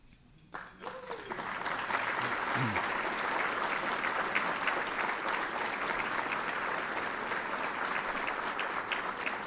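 Audience at a State of the City address breaking into loud, sustained applause after a brief voice at the start, the dense clapping continuing evenly to the end.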